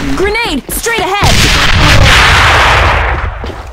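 Grenade blast during a live practice match, a loud broadband boom erupting right after a shouted warning and rumbling on for a couple of seconds, with voices calling out over the start.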